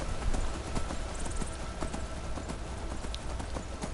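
Steady clip-clop of horse hooves trotting at an even rhythm over a low background hum.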